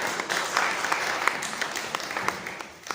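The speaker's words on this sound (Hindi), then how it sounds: "उनके लिए ताली बजा दीजिएगा" Audience clapping at a gathering, a steady patter of many hands close by, tapering slightly at the end.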